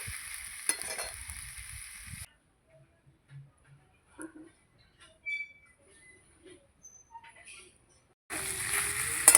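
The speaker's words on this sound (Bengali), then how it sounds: "একটু ভেজে নেবো কারণ মাছের তেলের সঙ্গে কাটাগুলোও আছে একটু ভেজে নেব" Fish fat and fish bones fry in oil with potatoes. A loud sizzling hiss cuts off into near-quiet with faint ticks and pops, then the sizzle returns at full strength.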